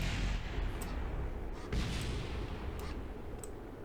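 A spacecraft explodes in Kerbal Space Program, giving a loud rumbling roar broken by several booming bursts that recur across the span.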